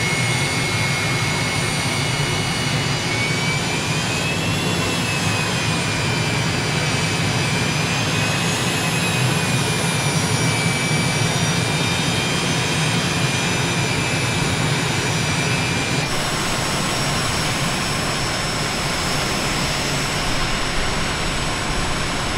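An Aermacchi MB-339 jet aircraft engine running near and loud, a continuous roar with a high whine that rises, wavers and then drops, steady throughout with no speech.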